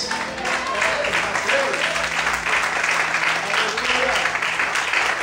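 A church congregation claps together in steady, dense applause at a worship service, filling the room evenly for several seconds with a faint hum underneath.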